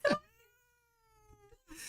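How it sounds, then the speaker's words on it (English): A cat confronting a dog lets out a long, drawn-out wailing yowl, framed by short, sharp hissing bursts at the start and end, heard close and fairly quiet. "torturing the cat who's hissing."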